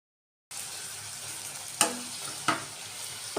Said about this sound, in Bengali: এখন এসছি একটু পরোটা ভাজছি